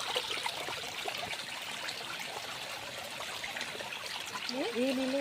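A clear stream trickles in a steady, soft babble at close range, with a voice rising briefly near the end.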